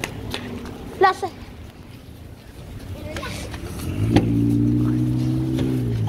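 A car engine hums into a steady, fairly loud idle in the latter half, after a few scattered knocks and brief sounds, with people's voices around.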